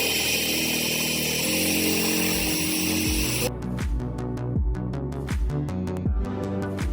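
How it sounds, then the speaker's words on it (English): Power drill boring holes into the steel side panel of a Ford Transit Custom van during a camper conversion, a loud steady motor whine that cuts to a run of short repeated bursts as each hole is drilled. "we've drilled about 50 holes"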